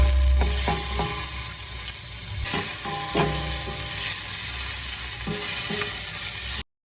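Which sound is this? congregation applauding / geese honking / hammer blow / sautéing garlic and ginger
sautéing garlic and ginger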